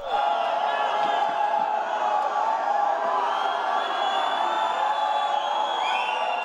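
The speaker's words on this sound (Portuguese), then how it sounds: "As vaias e os gritos de "Fora Dilma" partiram de pessoas que trabalhavam no evento." Workers at a trade fair boo and shout in protest, a loud continuous crowd roar with chanted voices sustained throughout.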